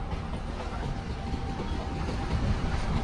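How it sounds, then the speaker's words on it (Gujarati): Rumbling train passing through a village railway station with a rhythmic clatter of wheels on rails, building slightly louder toward the end, heard without any talking. "આ છે રેલવે સ્ટેશન વિરુણ ગામનું"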